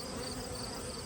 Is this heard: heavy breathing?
no